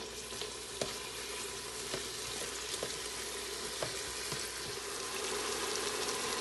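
Ground meat sizzling in a hot pan while being broken up, with a steady close fry hiss and occasional sharp scrapes and taps of the utensil against the pan.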